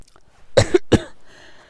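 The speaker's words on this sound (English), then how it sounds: "It's not COVID, it's just a cough." Two sharp, close coughs in quick succession from one person, followed by a short breathy trailing sound.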